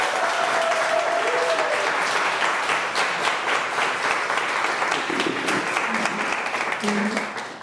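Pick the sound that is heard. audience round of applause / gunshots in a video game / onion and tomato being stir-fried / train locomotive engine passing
audience round of applause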